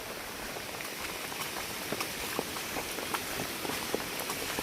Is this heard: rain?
yes